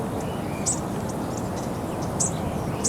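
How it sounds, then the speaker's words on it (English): Small bushtits give short, high, thin chirps at scattered moments over a soft outdoor background hiss, faint and somewhat distant. "There it is, bush tit."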